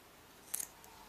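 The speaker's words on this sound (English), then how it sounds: "then I'll cut this yarn" A single quick snip of scissors cutting knitting yarn, a brief crisp close sound in an otherwise quiet room.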